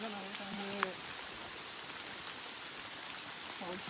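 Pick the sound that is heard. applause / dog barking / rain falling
rain falling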